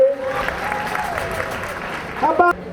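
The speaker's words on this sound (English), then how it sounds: "And how about a big round of applause for Medea for being so brave?" Audience applause at a 2014 jazz festival performance, a steady crowd clapping throughout with brief shouts and voices rising near the end.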